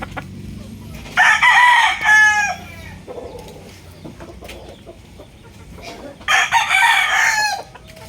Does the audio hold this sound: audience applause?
no